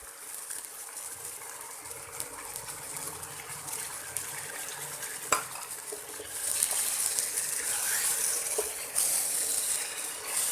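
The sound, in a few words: stirring onions, turmeric and ginger garlic paste in pan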